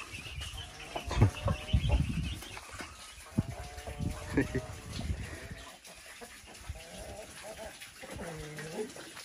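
A rooster crows nearby amid farmyard noise, with bursts of clucking and people talking over it.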